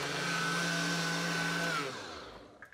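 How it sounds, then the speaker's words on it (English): A blender purees cooked broccoli with a loud, steady motor whir that holds for almost two seconds, then winds down and fades as it is switched off. "I'm just gonna blend it up, puree this out"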